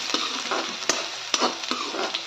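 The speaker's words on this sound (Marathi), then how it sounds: "कांदा ॲड करायचा आहे त्यात तेलात छान असा फ्राय होऊ द्यायचा आहे कांदा" Onion frying in hot oil gives a close, bright sizzle, broken by several crisp scraping strokes of a spoon stirring it around the pan.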